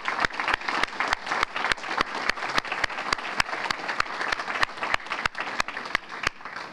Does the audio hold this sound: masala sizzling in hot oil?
no